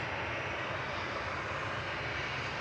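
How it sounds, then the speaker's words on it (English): EasyJet Airbus A320 at Manchester Airport, a steady distant roar of jet engines lined up for departure, broad and constant without change across the short stretch. "Line up, ready to go is EasyJet off to Paris, Charles de Gaulle, A320"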